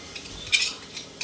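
A spoon scrapes and clinks briefly against a pot while stirring fish curry, with a few light metallic taps over a soft background.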